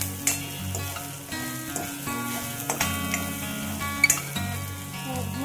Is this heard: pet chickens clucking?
no